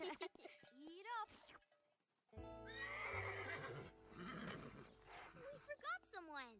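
A cartoon horse on a farm neighs in a loud, wavering whinny between bits of cheerful music and clip-clop sounds, with character voices talking around it.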